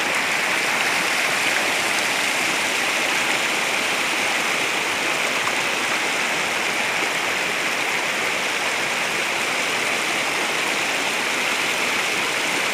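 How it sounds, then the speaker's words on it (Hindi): A cold mountain stream flows through the Gulmarg valley in Kashmir, a loud, steady rushing of water that continues without a break and has no voices over it. "गुलमर्ग की वादियों से आता हुआ ये ठंडा ठंडा पानी"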